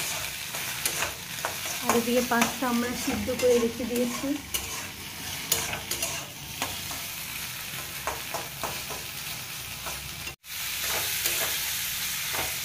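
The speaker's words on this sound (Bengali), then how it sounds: "ডিমটা ভাজছে" An egg fries in a pan with a steady, close sizzle and occasional stirring scrapes, while someone talks over it.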